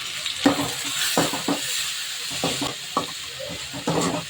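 Tomatoes and curry leaves sautéing in a pan, a steady sizzle broken by repeated scraping strokes of a spoon stirring, close and moderately loud.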